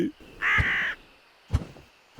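A crow in a kids' forest cartoon gives one loud, drawn-out caw, followed by short thumps and clatter.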